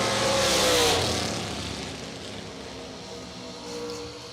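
A dragster races down the strip at a bracket drag racing event, its engine roar peaking early and then fading into the distance, with a faint second rise near the end.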